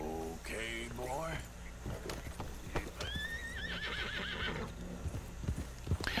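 A horse in Red Dead Redemption 2 clip-clops along with scattered hoof knocks, then lets out a loud rising whinny, with gear jangling softly throughout.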